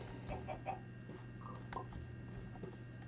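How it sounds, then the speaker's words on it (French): Soft, scattered chicken clucks sit low under a steady ambient hum, faint and intermittent, background fowl in a snowy Minecraft village. "les poulets aiment bien ce coin-là"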